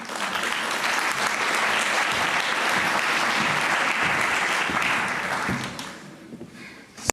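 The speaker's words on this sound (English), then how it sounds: "So I'll give him a round of applause when he comes to the podium." A conference audience at a nuclear medicine symposium gives a speaker a round of applause, dense and sustained clapping for several seconds that tapers off near the end.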